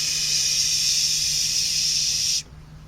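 A voice imitates a waterfall with a steady, close breathy hiss lasting over two seconds before cutting off abruptly into quiet.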